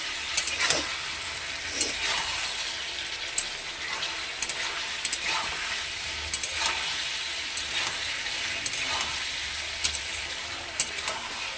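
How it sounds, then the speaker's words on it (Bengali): Fish fries in a pan with a constant hiss of sizzling oil, punctuated by regular clicks and scrapes of a utensil turning the pieces, heard close with no talk. "মাছগুলোকে চলো এখন সব এপিট ওপিট করে ভাজলাম, ভেজে এখন মাছগুলোকে উঠিয়ে নিচ্ছি"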